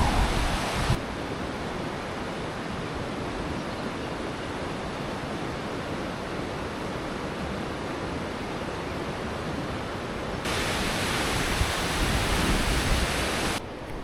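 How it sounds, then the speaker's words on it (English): The River Ledger rushes past on a countryside walking loop near a campsite: a steady, dense roar of flowing water, close and constant for the whole stretch, with no voices. "the River Ledger"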